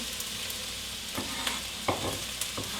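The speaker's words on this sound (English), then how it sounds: "So get those in the pan, the pot, and toss them around in the oil" Sweet onions sauté in oil in a pot, a soft steady sizzle broken by a few light scraping stirs.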